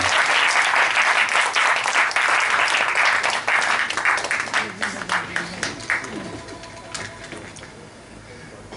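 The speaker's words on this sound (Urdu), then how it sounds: "جو تالیاں آپ نے بجائی ہیں" Applause from an audience at an Urdu Academy poetry tribute event, loud and dense at first, then thinning into scattered claps as it fades over several seconds.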